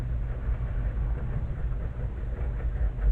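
Washer and dryer running in a laundry room directly above a soap-making kitchen, a steady low rumble and drone that stays fairly loud and even throughout, with no voices.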